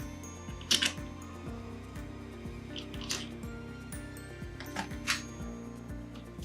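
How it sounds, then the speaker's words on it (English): Screws are driven into the base of an iGO machine during servicing, heard as a steady, repeating mechanical ratcheting pulse with a few sharper clicks and handling knocks on top, close and moderately quiet. "Start with the longer screw, putting it right through into the base."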